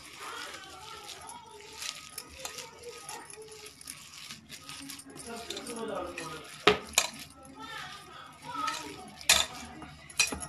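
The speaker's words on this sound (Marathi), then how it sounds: "ह्या 1/2 चमचा बेकिंग पावडर टाकणार आहोत आणि परत एकदा सर्व आपण मिक्स करून घेणार आहोत." A spoon mixing fenugreek bhaji batter with baking powder in a bowl, giving scattered scrapes and a few sharp metallic clinks, close, with talking throughout.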